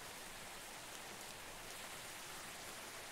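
Steady, dense rain from the Unity Rain Maker asset falls in a video game scene as an even, continuous hiss with no pauses.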